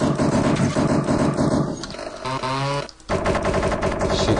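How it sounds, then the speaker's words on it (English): Rapid bursts of machine-gun-style fire hit the desktop in the Windows game Desktop Destroyer, loud and rattling, broken by a short pause before the shooting resumes, with no talking. "Shoot the desktop if you want."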